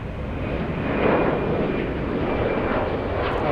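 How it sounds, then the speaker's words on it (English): Airbus A350 jet engine roaring at Atlanta Hartsfield-Jackson airport, a loud continuous broadband rumble that swells slightly and holds steady, heard at a distance. "All right, let's go for the A350."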